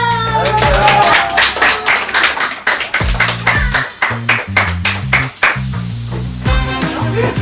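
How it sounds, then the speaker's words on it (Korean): Children clap in quick rhythmic bursts at a children's centre event, with a bright music track playing under the clapping throughout. "박수!"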